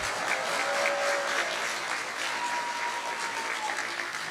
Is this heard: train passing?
no